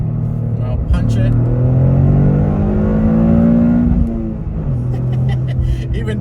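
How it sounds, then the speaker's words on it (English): A Toyota GR Corolla downshifts to second and accelerates hard, its engine rising in a loud, close climbing drone before easing off, with a person talking over it. "But here's a tight corner here, down to second, and I'll punch it."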